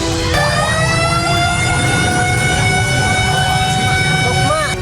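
A fire engine siren wails loud and steady, its rising and falling tones continuous from start to finish over rumbling traffic, sounding as fire crews respond to a blaze that gutted a building and its stock.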